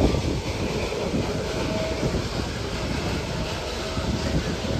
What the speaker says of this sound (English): this train moves very slowly. It's a very slow train, not a fast train.